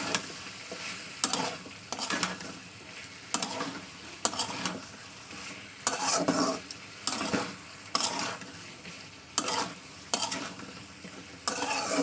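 Spices, vegetables and prawns frying in oil, heard as steady close sizzling broken by regular rhythmic scrapes of a spatula in the pan, repeating about every second.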